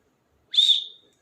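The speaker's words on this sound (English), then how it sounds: "if I whistle once" A tour guide blows a single whistle, one clear shrill blast about half a second long that tails off, loud and alone against silence.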